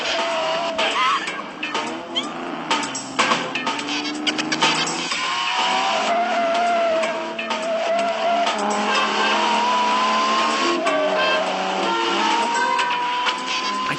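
A car chase in the 1995 GoldenEye film, with engines roaring and tires squealing under loud music that runs throughout, while the vehicle noise rises and falls as the chase goes on.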